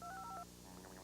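Telephone keypad tones dialing the collect-call number 1-800-COLLECT, a quick run of short electronic beeps at low volume, alone and ending in a brief click.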